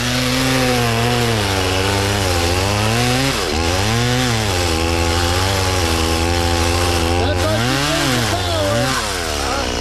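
A STIHL chainsaw engine runs loud and steady, with its revs rising and falling several times as the throttle is worked.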